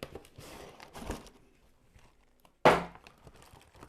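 Packaging from a perfume gift box crinkles and tears during unboxing, with soft rustles followed by one sharp, loud rip of the bag near the end.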